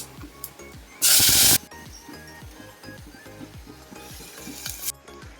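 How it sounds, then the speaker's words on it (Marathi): A loud burst of sizzling as cumin seeds, asafoetida and a prepared gravy hit hot oil in a home kitchen pan, then a softer continuing crackle with background music and a second rising sizzle near the end. "आता तेल तर गरम झालंय याच्यामध्ये मी टाकते जिरा आणि हिंग"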